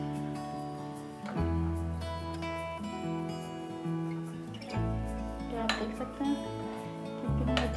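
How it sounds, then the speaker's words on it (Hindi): A spoon or whisk stirs custard powder paste in a bowl, with repeated clinks and scrapes against the dish and a few sharper knocks in between. "अब इसे हम अच्छे से मिक्स कर लेंगे। इस तरीके से आप इसे मिक्स करें कि इसमें कोई भी गांठे ना रहे"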